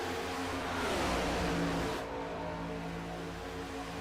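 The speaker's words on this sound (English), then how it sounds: "Nothing better than watching race cars go around Talladega" Race cars in an iRacing NASCAR Next Gen event circle Talladega, a dense, continuous roar of many engines droning together at steady volume, with a slight drop in intensity partway through.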